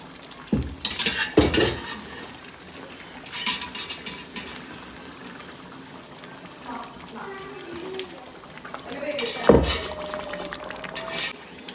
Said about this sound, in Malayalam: നന്നായി ബീഫെല്ലാം ഇട്ട് നന്നായി ഇതൊന്ന് ഇളക്കട്ട്